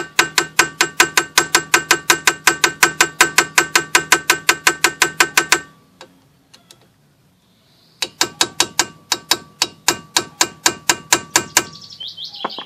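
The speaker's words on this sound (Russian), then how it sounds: "Изначально немножко постукиваем по ней, по самим болтикам, чтобы они немного отошли." Screwdriver tapping on handbrake adjustment bolts of a Chevrolet Aveo T250, a fast steady run of sharp metallic clicks close up, a pause of near silence, then another burst of rapid taps.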